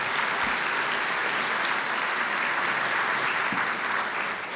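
Sustained applause from a seated audience at a 2018 foundation awards dinner honoring a board, a dense steady wash of clapping that carries evenly for several seconds with no voices rising above it.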